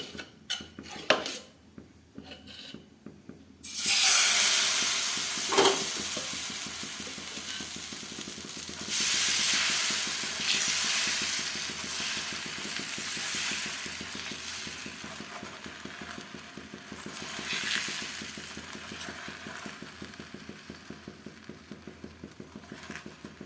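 Eggplant pieces frying in a pan with just a little oil give a steady sizzle that starts abruptly and keeps going, broken by the scrape and clink of a utensil stirring.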